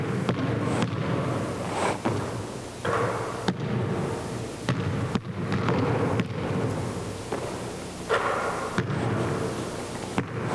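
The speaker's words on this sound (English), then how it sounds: "Players are bringing the ball to the shooting pocket area while shooting off the dribble." Basketballs dribbled and shot by several players in a gym, repeated loud thumping bounces at an uneven rhythm over a dense, reverberant background hum, with no talk.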